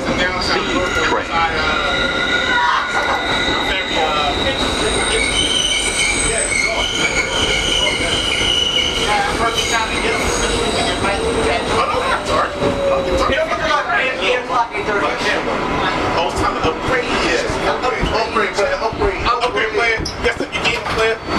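A 2003 Kawasaki R142A subway car on a 4 express train rumbles loudly along the tracks, with high metallic wheel squeals and screeches riding over the constant roar.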